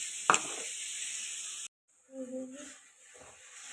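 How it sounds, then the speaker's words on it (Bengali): Onion frying in oil with cumin seeds and bay leaf gives a loud, hissing sizzle for a moment. It cuts off abruptly, and a short stretch of quieter sound with a voice follows. "ওই তেলেতে জিরে তেজপাতা দিয়ে পেঁয়াজটাকে ভাজবো"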